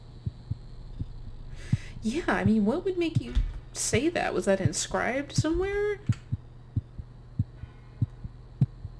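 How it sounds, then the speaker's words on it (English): A slow, steady heartbeat thuds from old machinery in the video game The Cat Lady, regular low pulses over a faint hum, continuing under a stretch of conversation and then alone. "I can hear a heartbeat."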